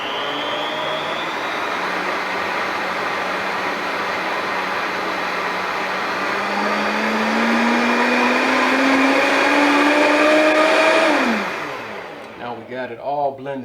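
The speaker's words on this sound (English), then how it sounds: "And we're just going to blend that all up together real good." A countertop blender whirs loudly and steadily as it purees juice ingredients, its motor pitch climbing as the load loosens, then it cuts off and winds down into brief clatter.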